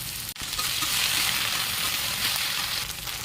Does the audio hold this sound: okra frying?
yes